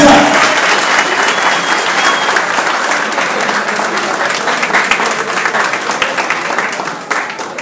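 A crowd at a political rally in Santa Marta greets a mayoral candidate with loud, dense, sustained applause that holds steady for several seconds before starting to thin out.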